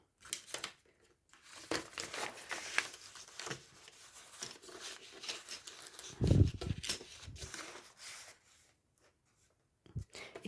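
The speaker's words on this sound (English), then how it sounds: "So let's just cut out some bits from this one." Scissors and paper cut pieces out of a jelly plate print for collage, with soft, close crinkling snips and rustles coming in irregular bursts between quiet pauses and one louder thump of paper handling.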